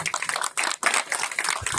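An audience bursts into steady applause at a public gathering, many hands clapping in a dense, even patter that stays loud throughout the short stretch.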